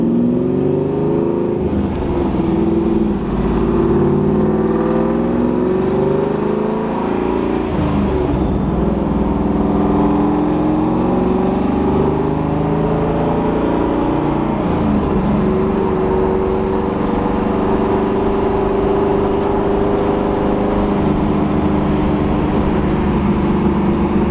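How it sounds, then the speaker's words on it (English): Interior ride in a 1969 Chevrolet Camaro Z28 with the DZ 302 V8: a steady, loud low engine drone with road rumble throughout, rising and easing in pitch through shifts and acceleration, with no talk. "We're gonna go for a ride in the car for the next little stretch here"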